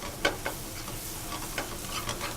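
Shallot and fresh thyme stirred in a pan of hot oil for a roast chicken dish, giving a soft steady sizzle with a few light scraping stir strokes, fairly close and quiet.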